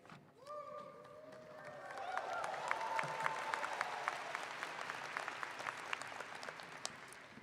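A graduation audience at the Heinz College hooding and diploma ceremony breaks into applause. A few whistles come first, then the clapping swells to a sustained, dense round that carries on with scattered louder claps.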